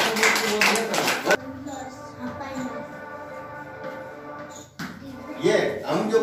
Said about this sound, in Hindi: उसके लिए ताली बजाओ।